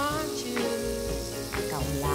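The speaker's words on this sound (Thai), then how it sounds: "เราก็จะนำกระทะใส่น้ำมันนิดเดียวนะคะไม่ต้องเยอะเมื่อกระทะร้อนดีแล้วเราก็จะทอด" Stuffed pork frying in a hot pan with a little oil, a soft steady sizzle with faint crackles close by.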